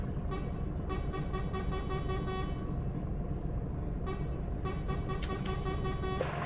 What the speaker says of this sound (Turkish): Kornaya bakalım nasılmış ya.